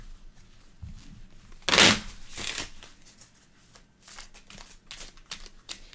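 Playing cards for a Pandemic Legacy board game being shuffled at a table: a loud riffle burst near the start, a second softer flutter after it, then quieter scattered card handling to the end.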